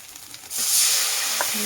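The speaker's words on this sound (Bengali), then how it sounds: "এটা আমি একটু ভালোভাবে ভেজে নিই।" Mustard paste hits a hot pan and bursts into a loud, close sizzle that starts suddenly after a quiet moment. The hiss then holds steady with a few faint stirring clicks, and no one speaks.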